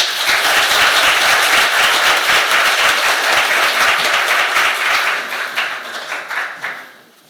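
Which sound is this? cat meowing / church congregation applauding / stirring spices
church congregation applauding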